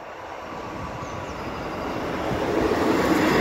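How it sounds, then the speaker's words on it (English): A train, number 158844, approaches and passes, a broad rumbling roar that builds steadily louder over a few seconds with no talk over it. "I do believe I can hear a train for all you train lovers."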